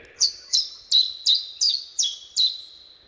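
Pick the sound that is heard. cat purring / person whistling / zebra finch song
zebra finch song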